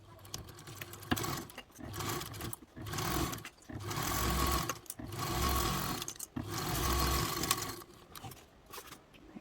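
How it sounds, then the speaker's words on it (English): A sewing machine stitches a 1/4 inch seam on a crescent-shaped bag in several bursts of steady mechanical whirring, stopping and starting between seams, fairly close and with no talking. "take us over to the sewing machine now and we'll sew this up"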